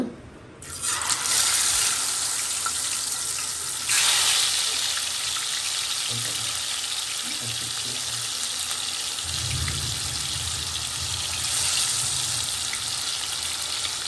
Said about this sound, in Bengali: এই তো ইলিশ মাছ ভাজা হচ্ছে।